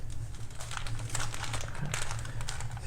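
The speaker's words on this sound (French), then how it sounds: "On vient rouler notre biscuit dans son papier de cuisson." Baking paper crinkles and rustles as a chocolate sponge cake biscuit is rolled up in it, a close, soft, continuous crackling without speech.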